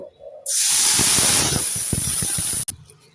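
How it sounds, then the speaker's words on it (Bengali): Sugar syrup poured into a wok holding a little hot oil, bursting into a loud, sustained hiss for about two seconds before cutting off abruptly, close and alone. "এবার ওই কড়াইয়ের মধ্যে চিনির শিরাটাকে আমি ঢেলে দেব"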